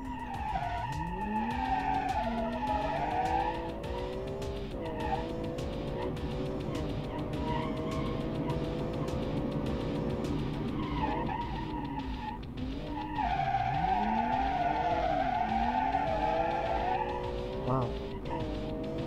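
A car drifting up the Pikes Peak hill climb course, its tyres squealing in long, wavering skids over a steady engine roar, while people talk over the noise.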